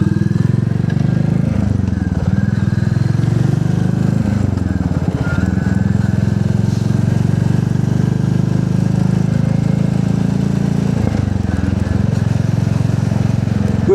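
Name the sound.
Royal Enfield motorcycle engine running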